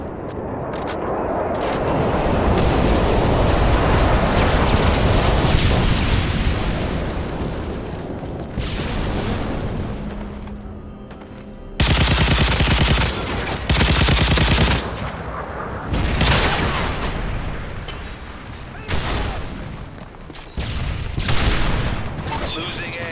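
Stealth airstrike bomb run in Call of Duty: Modern Warfare 3, with a long, loud roaring rumble of explosions followed by bursts of gunfire and further blasts, while game voices talk over the action.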